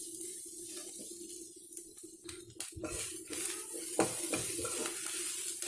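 Coconut pieces fry in a pan for a chicken fry dish, a steady close sizzle with occasional stirring scrapes and clinks of a utensil against the pan.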